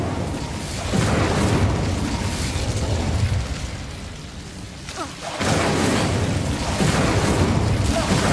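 Incendio fire spell blasts in Hogwarts Legacy, a game scene: a loud burst near 1 second, sustained roaring fire through the middle, a brief drop, then another strong blast around 5.5 seconds continuing to the end.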